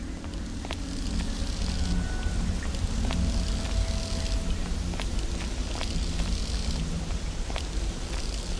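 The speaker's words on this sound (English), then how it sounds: "That's quite a storm." A steady thunderstorm downpour in the video game Adam's Venture: Origins, with dense rain pattering on surfaces and low rumbling throughout, broken by sharp scattered drop hits and no voices.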